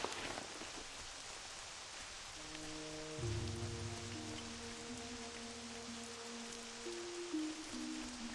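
Steady rainfall patters across a World of Warcraft game world, a constant even wash of drops while musical tones rise and sustain over it, with no voices.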